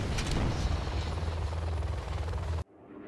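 Helicopter rotor thumping and engine whine during a flyby in the real-time strategy game Command & Conquer Generals Zero Hour, loud and steady for over two seconds before cutting off abruptly.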